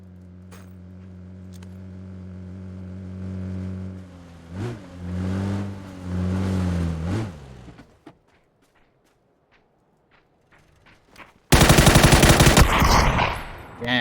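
Gunfire in the video game PUBG: a loud, dense burst of rapid shots arrives abruptly near the end, after engine-like drones and a stretch of near silence.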